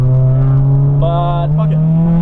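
An Acura Integra engine drones steadily at a high, even pitch under acceleration, heard from inside the cabin and fairly loud, with a short brighter tone partway through and no talking.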